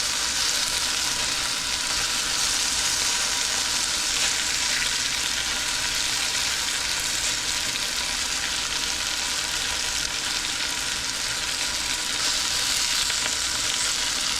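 Grease popping and sizzling steadily on a stove burner, a dense, continuous crackle with constant loudness and no voices.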